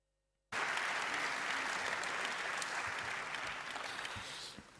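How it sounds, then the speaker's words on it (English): Sustained applause from a large audience at a European Parliament political group conference, steady and dense throughout after a brief silent start, tapering slightly at the end. "you've heard the applause"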